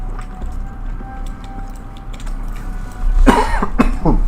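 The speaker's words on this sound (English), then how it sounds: "Sorry, coughing." A person coughs twice in quick succession close to the microphone, the coughs rising sharply over a steady low background hum during a computer game session.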